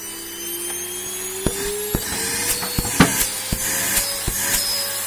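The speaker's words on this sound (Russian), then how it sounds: "Я его сейчас пропылесошу." A vacuum cleaner runs steadily while cleaning out a clogged filter from an old fire extinguisher, with a rising motor whine and a string of sharp clicks and knocks as debris is sucked through.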